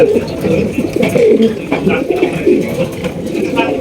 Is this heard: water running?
no